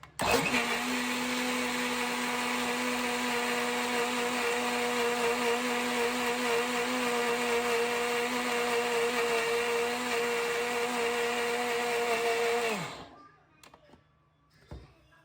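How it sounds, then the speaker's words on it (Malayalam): A kitchen blender whirs steadily while mixing maida flour into unniyappam batter, a loud continuous motor drone running for about twelve seconds before cutting off, leaving faint clicks and near silence. "എന്നിട്ട് ഒന്നും കൂടെ ബ്ലെൻഡ് ചെയ്തെടുക്കാം."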